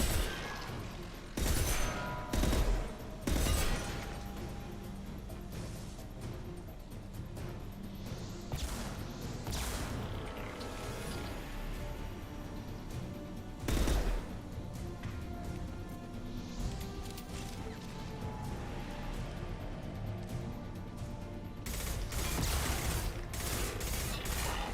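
Heavy weapons fire in the video game Mass Effect 2, with loud bursts and crashing impacts over a dense, continuous battle din, strongest near the start and again near the end.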